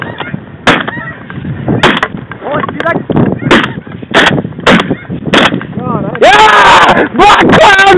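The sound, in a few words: gunshot while hunting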